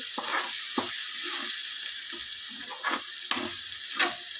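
A ground peanut masala paste fries in a pan for paneer curry, giving a soft continuous sizzle broken by repeated scraping stir strokes at an uneven rhythm, close and fairly quiet.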